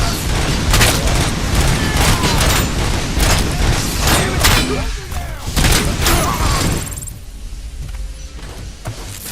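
Loud gunfire in a futuristic corporate-themed shooter game crackles in dense bursts with heavy booms and mechanical clatter, continuous for most of the stretch before thinning out near the end.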